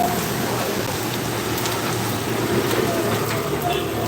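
Rain falls steadily in Kottarakkara, an even, unbroken hiss of drops on surfaces nearby with no clear pauses.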